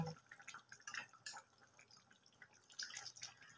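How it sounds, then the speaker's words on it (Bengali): Milk is poured into meat cooking in a pan, giving light, intermittent splashes and drips that are faint and close, with scattered pauses between bursts. "এর সাথেই আমি দুধটা দিয়ে দেব।"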